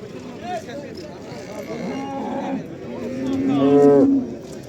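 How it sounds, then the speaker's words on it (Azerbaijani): A cow at a livestock market in Barda moos with drawn-out, harmonic calls, the loudest near the end, while people talk in the background. "Kardeşim bak belə bir inəyi var."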